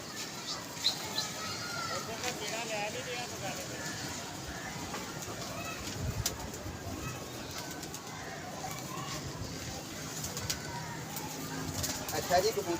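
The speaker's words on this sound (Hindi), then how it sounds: "अभी तो कबूतर को भगा रही हैं देखने" Soft cooing of pigeons at a pigeon club, low and intermittent beneath steady outdoor noise and ongoing conversation.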